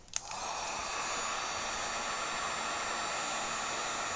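Heat gun warming a kinked PEXa pipe: a click as it switches on, then a steady, fairly soft blowing hiss that holds evenly throughout.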